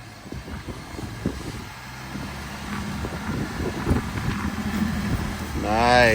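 Off-road vehicle crawling through a tricky rocky section at Valley of the Moon near the border, engine rumbling low and steady on easy throttle, rising toward the end, with wind noise and people talking over it.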